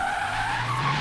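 Tires squeal and skid in a steady, continuous screech as a 2008 BMW M3 drifts in Forza Horizon 3, with a broad engine-and-rubber roar and no voices.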